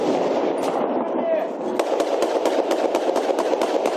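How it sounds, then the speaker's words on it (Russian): Exploding mines and artillery shelling at Donetsk airport come through as repeated sharp blasts in the second half, over a dense, loud rumble of combat noise. Voices can be heard amid the din. "Бежим под звуки разрывающихся мин."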